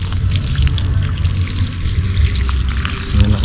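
A garden hose runs with strong flow while watering plants in a backyard farm, a steady splashing, hissing pour that stays close and even throughout with no voices.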